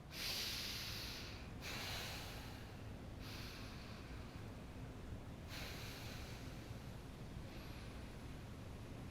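Slow nasal breathing with lips closed, taken standing: long hissing inhales and exhales alternate in a steady rhythm, close and fairly loud, with no talking.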